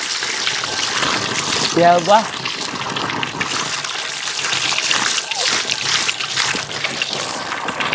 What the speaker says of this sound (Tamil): இங்கே பாருங்க தண்ணி எவ்வளோ வருது